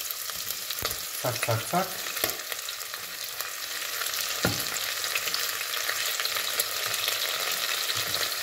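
Regular and red onions frying in a pan outdoors in a forest give a continuous crackling sizzle, with a quick run of stirring scrapes early on, a brief spoken exclamation and some soft clatter.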